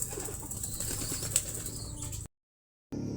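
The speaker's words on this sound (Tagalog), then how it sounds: "So nakapagpaligo na rin tayo ng mga ibon namin ni Palawan." Pet birds flap their wings in a bath, a busy fluttering texture filling the first two seconds, then silence, with the flapping briefly returning at the end.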